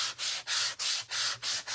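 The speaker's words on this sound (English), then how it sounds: "Sand it all. Sand everything." Hand sanding of wood for a barn door sign stand, five broad rasping strokes in a steady back-and-forth rhythm, close and fairly loud with brief gaps between passes.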